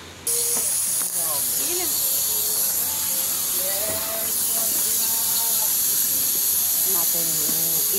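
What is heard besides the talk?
pressure cooker releasing steam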